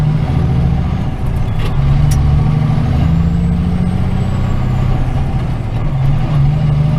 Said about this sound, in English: I don't know why them trucks go down to that traffic light.